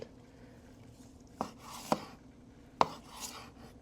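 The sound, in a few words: knife slicing grilled tri-tip steak against the grain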